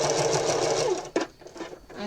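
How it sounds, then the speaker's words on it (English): A sewing machine fitted with a walking foot runs steadily while stitching a fleece seam, a close, continuous motor whir that stops briefly about halfway through before resuming more softly. "I happen to have a walking foot on my sewing machine right now because I was quilting, but since I'm using fleece, that's fine"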